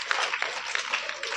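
Seminar audience at a school clapping steadily in a short, dense burst, the individual claps blending into continuous applause with no voices over it.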